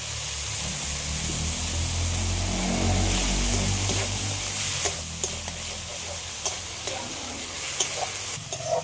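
Ginger and coriander paste sizzles steadily in a spiced masala with turmeric and melted tomato, cooked for an elephant-foot yam and prawn curry; a continuous close frying hiss with scattered stirring clicks and scrapes toward the end.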